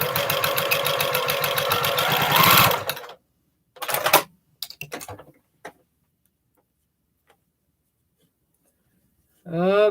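A 4 Star General sewing machine stitches a seam in a steady, dense whir for about three seconds, then stops, followed by a few short bursts of handling noise and a fresh whirring start at the very end.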